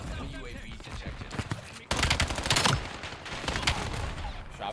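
Rapid gunfire bursts from Black Ops 7 multiplayer combat, dense and loud throughout, with volleys getting heavier midway, while a voice talks over the action.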